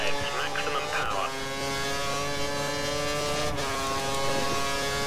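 A race car engine held at full revs in the F1 2013 video game at Silverstone, a loud, steady high-pitched whine that continues throughout with small shifts in pitch.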